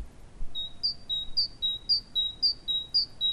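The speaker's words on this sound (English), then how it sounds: "we're going to listen to the song of the great tit" Great tit song: a repeated two-note high whistled phrase, about seven clear rhythmic 'teacher' cycles, fairly near and alone against a faint low background hum.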